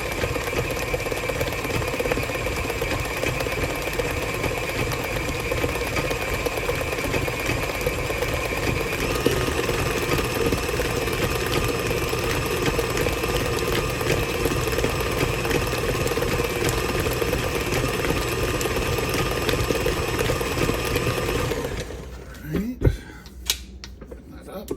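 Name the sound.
electric mixer beating pound cake batter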